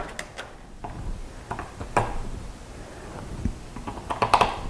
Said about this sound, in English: I'm going to go into my drawer here and I'm going to grab 4 batteries.